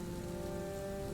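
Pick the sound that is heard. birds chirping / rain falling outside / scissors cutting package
rain falling outside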